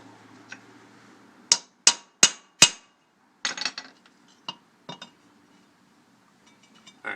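Wheel studs on a 1963 Willys Jeep Gladiator front disk brake hub are tapped in with a hammer: four sharp metallic strikes in quick succession, then several lighter taps, close and clear with no talk.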